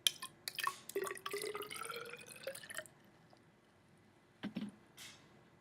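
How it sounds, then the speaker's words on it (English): Salt solution pours into a graduated cylinder, a close, faint trickle of liquid for a few seconds followed by quiet and a couple of small drips and clinks. "Pour our salt solution."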